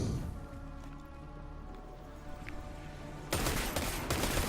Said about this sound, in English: I'm using a pulse rifle right now